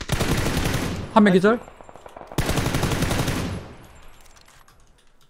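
Bursts of automatic gunfire in the battle royale game PUBG, loud and rapid, with a voice speaking briefly over the shots.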